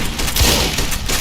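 A shotgun blast in Fallout: New Vegas, a single loud boom with a low thump under a dense, noisy game soundscape, with no talk over it.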